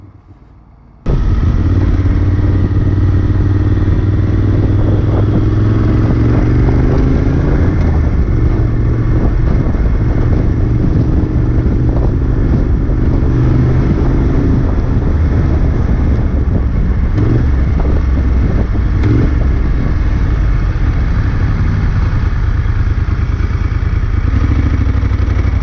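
A Moto Guzzi Griso motorcycle engine running steadily and loudly while being ridden, a continuous close, throbbing drone with wind rush and slight rises in revs throughout, no talking.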